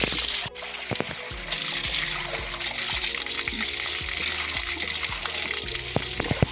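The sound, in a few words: spring water trickling from a forest spring spout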